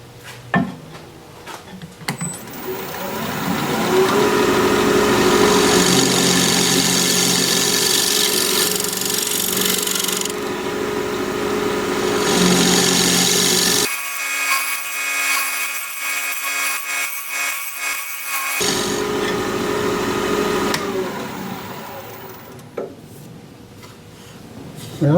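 A wood-turning lathe spins while a tool scrapes the turned wood, giving a steady loud hum with a grating scraping texture that drops out briefly midway, then resumes before fading at the end.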